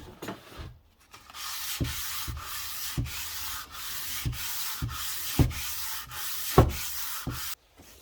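Rhythmic back-and-forth rasp of 240-grit sandpaper rubbing an Alfa Romeo OZ Monza three-piece wheel, about a dozen even strokes, close and fairly loud, with no talking.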